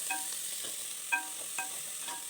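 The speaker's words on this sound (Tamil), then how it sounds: "இந்த வெங்காயம் நல்லா வதங்கிறதுக்காக இதுக்கு கொஞ்சம் உப்பையும் போட்டு நல்லா வதக்குங்க" Finely chopped onions with a little salt sauté in a pan with a soft, steady sizzle, broken by a few light scraping stirs, quiet and close.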